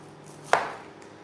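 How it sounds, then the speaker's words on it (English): One sharp knife chop through a vegetable onto a cutting board, close and crisp, with a quick thud that fades under a soft room hiss. "You start chopping from here."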